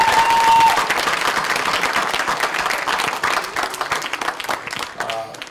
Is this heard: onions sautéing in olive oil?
no